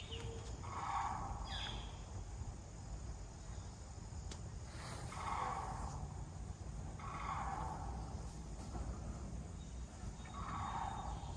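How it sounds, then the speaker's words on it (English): Sandhill cranes calling in the woods, rolling, trumpeting calls sounding at intervals of a few seconds, distant and fairly faint over a steady hiss of outdoor background noise. "see if we can hear the sound of the Sandhill Cranes"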